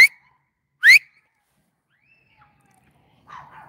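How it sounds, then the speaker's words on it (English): A loud, shrill human whistle calls dogs outdoors, two sharp rising bursts a second apart, then quiet and a faint whine or bark near the end. "That's my lassie whistle."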